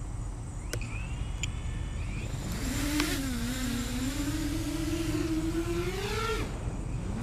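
FPV quadcopter drone running Betaflight 4.2 with default PIDs and RPM filter, its motors whining steadily in flight, the pitch rising and falling with throttle, loud and continuous with no talk.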